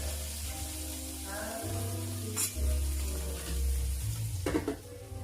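Thin pieces of basa fish frying in a pan, a steady close sizzle with stirring and a few low clattering knocks from the pan, no voices.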